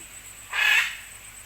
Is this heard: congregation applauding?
no